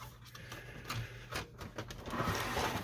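Plastic front cover of a Samsung CLP-365W colour laser printer being lifted open and released, with a few close, brief clicks and creaks over a low steady hum.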